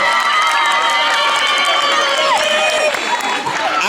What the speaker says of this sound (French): Applaudissez pour notre fille.